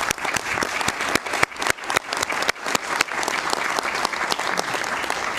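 A room applauds at a pension board of administration meeting, many hands clapping in a dense, lively patter with a few sharp individual claps standing out, no talk over it.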